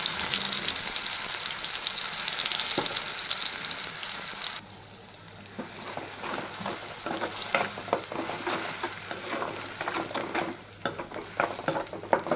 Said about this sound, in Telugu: ఉల్లిపాయ ముద్ద వేపేసుకున్నామండి